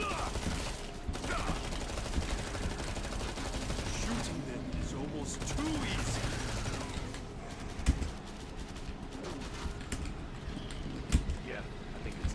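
A drum-magazine gun fires in the Killing Floor 2 video game, sustained automatic bursts under constant talking, with a couple of louder individual shots standing out.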